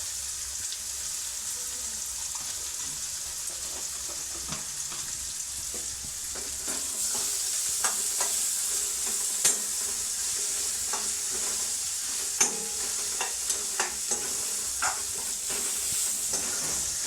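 Spine gourd (kantola) frying in oil in a pan, a steady bright sizzle with scattered scraping clicks as a spoon stirs the vegetables, the hiss growing slightly louder partway through.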